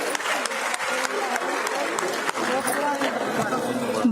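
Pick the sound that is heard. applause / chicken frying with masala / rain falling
applause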